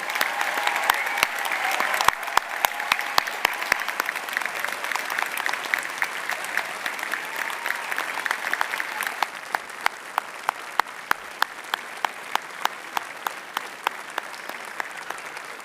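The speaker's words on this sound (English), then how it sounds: "Please, can we all, with a huge round of applause, please celebrate our wonderful class of 2022." Sustained audience applause fills a graduation ceremony hall, steady dense clapping with a few sharper individual claps standing out near the microphone, continuing for the whole stretch without speech.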